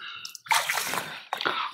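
Plastic water-saving tube being pushed down into the flooded soil of a rice paddy, giving wet squelching and sloshing sounds in two close bursts, with no talk.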